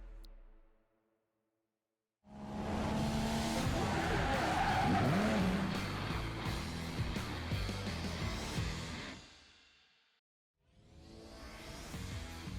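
A 1959 Cadillac Series 62 Convertible drives past with a loud, steady engine roar and road noise that fades out. After a short silence, another pass of the car begins.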